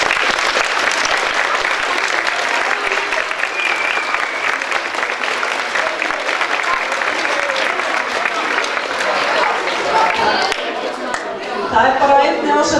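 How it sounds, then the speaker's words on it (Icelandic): A school audience at an annual celebration for grades 7 to 10 claps in sustained, dense applause that holds steady, then thins toward the end as a few voices and scattered claps remain. "ég ætla að biðja ykkur um að klappa fyrir árgangnum núna"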